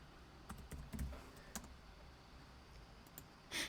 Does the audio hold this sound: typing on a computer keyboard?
yes